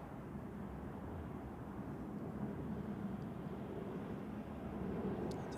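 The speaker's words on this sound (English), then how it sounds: "this is a Swiss A320 1neo from Geneva" A Swiss Airbus A320neo from Geneva passes at Zurich Airport as a faint, continuous distant jet roar that swells slightly toward the end.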